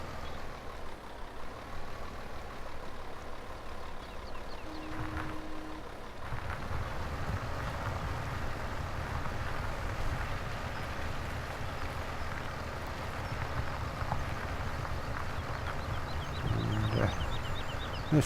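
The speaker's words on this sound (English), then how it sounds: "This tractor is absolutely purring along in this field." A tractor in Farming Simulator 17, set in 1960 during early spring fieldwork, giving a steady, continuous low engine drone that runs throughout with little change, loud and close without speech.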